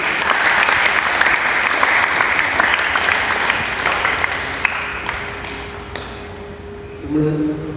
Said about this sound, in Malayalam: ആ കുട്ടിക്ക് വേണ്ടിയിട്ട് നമുക്ക് നല്ലൊരു കൈയടി കൊടുക്കാം